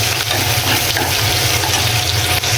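Dal hits a pan of hot browned paste spiced with turmeric and chili powder, setting off a loud, dense, continuous sizzle that fills the whole moment.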